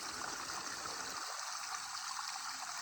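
Steady trickling and splashing of water from a fountain, continuous and fairly close, with the low rumble dropping away partway through.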